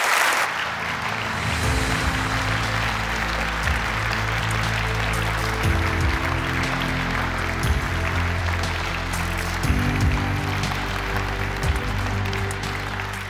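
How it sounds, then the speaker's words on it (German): A ceremony audience at the 2021 German Environmental Prize award applauds a winning professor, a continuous broad wash of clapping that fills the hall over sustained low musical tones. "Einen großen Applaus bitte für unseren Preisträger"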